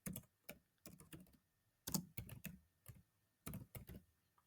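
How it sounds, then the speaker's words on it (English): Fingers type on a computer keyboard in short bursts of quick, close key clicks separated by brief pauses, quiet and alone. "I'm gonna type something simple like this."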